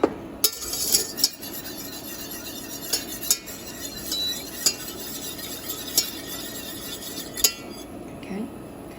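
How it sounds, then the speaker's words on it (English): Whisk scraping and clinking against a pot while flour is worked into a mac and cheese sauce, a steady stirring texture punctuated by several sharp metallic taps, close and fairly quiet with no talking. "whisk that all up."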